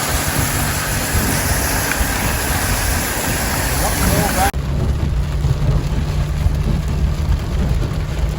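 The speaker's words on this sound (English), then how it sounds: "It's still raining" Steady rain in flooded country around Charleville, Australia, a dense continuous hiss that lasts the whole stretch, brighter and louder at first, then duller after a sudden drop partway through.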